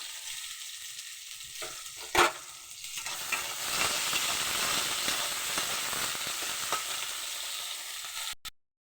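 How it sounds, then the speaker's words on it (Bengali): Cut radish and potato frying in oil with panch phoron, a loud close sizzle that swells after a sharp clack of the pieces being added and holds steady before cutting off. "ভালোভাবে মূলো আর আলুটা একটু ভেজে নেব"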